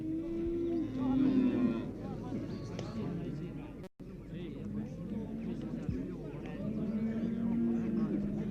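Cattle lowing in long, drawn-out moos amid a busy outdoor crowd at an Irish fair day in the 1970s, with voices and general chatter running underneath.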